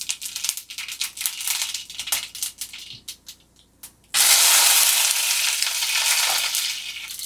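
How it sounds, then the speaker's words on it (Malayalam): Mustard seeds and curry leaves go into hot coconut oil, with sharp crackling pops at first, a brief lull, then a loud sustained hiss and sizzle, close up. "നമുക്ക് കടുക് പൊട്ടിക്കാം."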